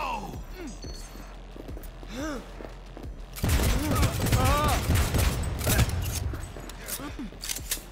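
Bursts of gunfire in Cyberpunk 2077 break out suddenly and keep going as a dense, loud fusillade over game noise, with a voice talking over the shooting.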